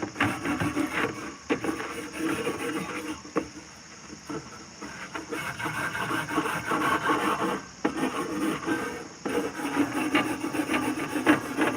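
Steady back-and-forth scrubbing of metal smoker grates, a continuous close, raspy rubbing that goes on nearly without pause, with a few brief dips in intensity.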